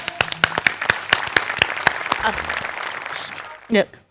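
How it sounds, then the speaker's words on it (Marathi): An audience at a stage programme breaks into loud, dense clapping, many close hand claps at once, with voices talking over it as the applause thins out. "एकदा आशाताईंसाठी जोरदार टाळ्या"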